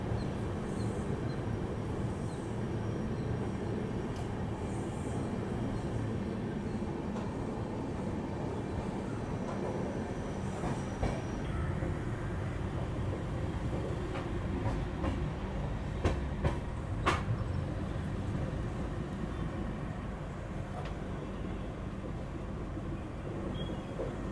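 Steady rumble and clatter of the Bangalore Rajdhani Express running through Bangalore Cantonment station without stopping, heard from inside a first AC coach, with continuous wheel noise and a few sharp rail clicks partway through.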